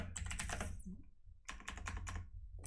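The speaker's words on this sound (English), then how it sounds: "You go here, and then type whatever you want." Rapid keystrokes on a computer keyboard in two close bursts separated by a short pause, crisp and fairly quiet with no talk.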